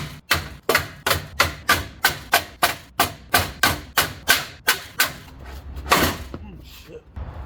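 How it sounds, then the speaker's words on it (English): A sledgehammer pounds a dented truck body in a steady run of about fifteen loud metallic thuds, evenly spaced and close, ending in one rougher crash followed by quiet. "So I think now we're gonna beat the hell out of it with the sledgehammer."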